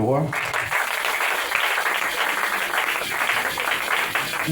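A church congregation applauding to acclaim the king, with dense, sustained clapping and crowd noise after a brief voice at the start, continuous and fairly loud.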